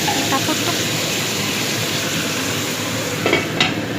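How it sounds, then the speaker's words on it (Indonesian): Salted fish stir-fry being stirred in a pan after water is added, a steady loud sizzle and hiss with a few scraping stir strokes near the end, no talking. "kita kasih air biar ngebul, terus diaduk lagi"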